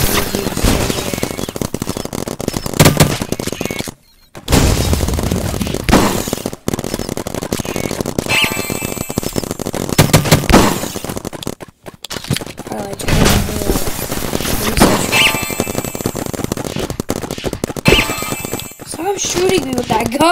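Gunfire and RPG blasts from the Roblox paintball game sound in rapid, dense bursts that barely let up, loud and continuous, with a player talking over the shooting.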